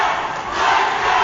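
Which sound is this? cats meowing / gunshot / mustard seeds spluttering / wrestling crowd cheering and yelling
wrestling crowd cheering and yelling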